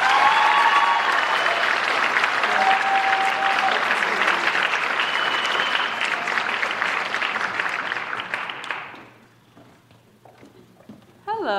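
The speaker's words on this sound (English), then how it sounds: "and a round of applause for everybody," A crowd applauds at an evening awards ceremony for a music group, loud sustained clapping with scattered cheers that fades out near the end, followed by a brief pause before a voice begins speaking.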